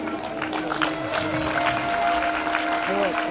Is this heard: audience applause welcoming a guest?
yes